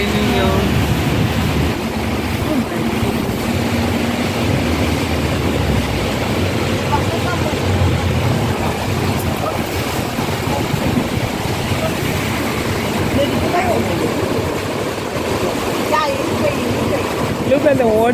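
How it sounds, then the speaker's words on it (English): Heavy rain pours down on a car driving home through Windhoek, a dense, continuous wash of hiss and road noise throughout, with someone talking over it. "Just on my way home, the rain started raining heavily."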